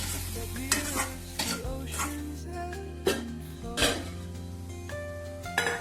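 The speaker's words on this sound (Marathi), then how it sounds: "सर्व एकजीव करून घेऊया।" A spoon scrapes and clinks against a pan while soya masala is stirred and mixed, irregular knocks over a soft background sizzle.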